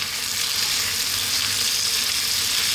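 Minced beef and softened onions frying over medium heat in a pan for homemade lasagne, a constant loud close sizzle with no talk.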